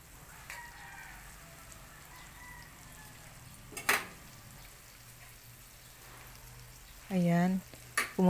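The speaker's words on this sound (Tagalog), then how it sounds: "Lagay lang natin sa kawali yung butter." Butter sizzles in a hot pan with a steady, soft crackle, broken by a couple of brief sharp clatters near the end.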